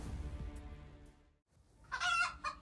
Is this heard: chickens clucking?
yes